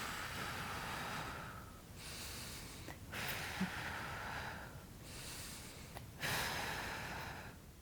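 Heavy, rhythmic exhaling and inhaling from a woman during a postpartum lower-body strength workout, with four long breathy, airy cycles close to the microphone and no talking.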